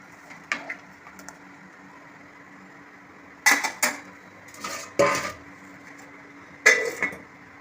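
A spoon scrapes and clinks around a pot of boiling dal sambar with chandikeerai greens, giving several sharp metallic knocks in short bursts over a steady low simmering hum, with no talking.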